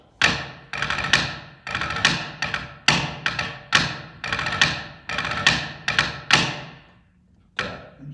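A hand strikes a tabletop in a rhythmic pattern of sharp thumps and quick taps, close and distinct, with a brief pause before a final hit.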